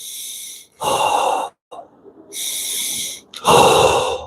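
Deep, slow breathing exercise: a long audible inhale, a pause, then another drawn-out breath and a forceful exhale, each close and airy with brief silences between.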